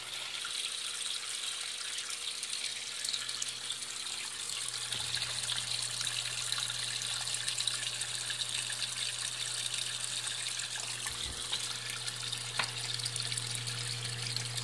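Water rushes steadily into two washing machines, a Brastemp Clean 5 kg among them, both fed from one shared tap and filling together at divided pressure; a continuous low gushing hiss runs throughout with a steady hum.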